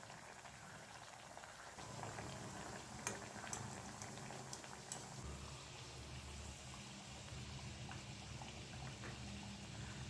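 Matar kachori (pea-stuffed pastries) deep frying in hot oil until golden, a continuous dense bubbling and crackling sizzle with a few brief clicks, steady and fairly close.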